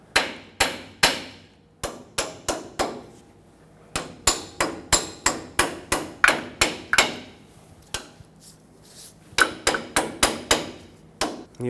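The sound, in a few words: hammer tapping a tie rod clamp on a Ford Excursion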